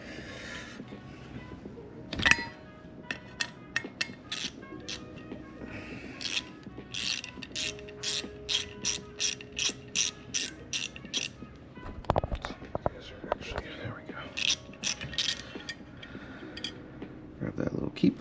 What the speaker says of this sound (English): Next order of business is going to be taking the rotor off, and that's a Torx, little Torx bit